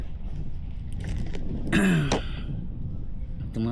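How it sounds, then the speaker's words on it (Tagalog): An outdoor cough in a park, a short rough throat-clearing burst over steady wind and background noise, heard once near the middle. "Ubo yung tumatagal sa akin eh."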